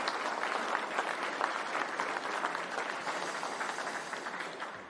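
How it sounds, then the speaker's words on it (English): An audience at an agricultural innovation awards evening gives a round of applause for five finalists, steady even clapping from a large crowd held throughout at moderate distance, with no talking over it. "What about a round of applause for all 5 of our finalists?"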